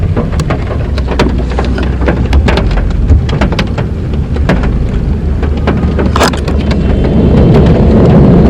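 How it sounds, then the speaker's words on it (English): Steady rain patters densely on a surface, with scattered sharper drops and a low rumble underneath throughout. "And it's raining."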